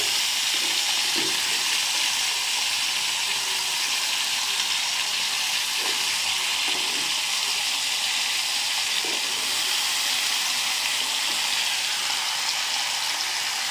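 Fish pieces (rohu and catla) fry in hot oil in a pan, making a loud, continuous hissing sizzle with occasional soft clinks, and no one talks.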